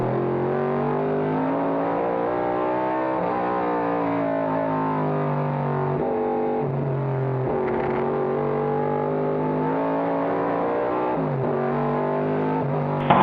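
Vintage race cars, including a 1971 AMC Javelin, roar past at a reunion race, a loud sustained V8 engine drone with shifting pitch and gear changes, heard from close by with no talk over it.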